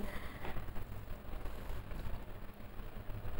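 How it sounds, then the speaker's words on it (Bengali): Onions fry in hot oil with panch phoron, a Bengali five-spice tempering, while cooking for a rohu fish curry. A soft, continuous sizzle crackles up close and steady, with no voices. "পেঁয়াজটাকে আমি লাল করে ভেজে নিচ্ছি"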